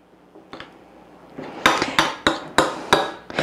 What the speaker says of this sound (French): 2 cuillerées à table de beurre que je vais crémer